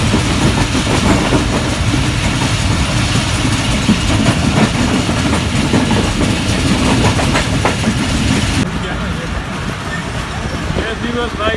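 Steady rumble and rattle of a train rolling along the rails in Sindh, Pakistan, loud and continuous, with people's voices audible over the clatter.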